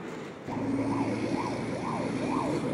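An ambulance siren wails in repeated rising and falling sweeps as it speeds along a street in Yakutsk, starting suddenly and holding loud over steady traffic rumble with no voices.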